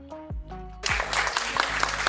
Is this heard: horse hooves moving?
no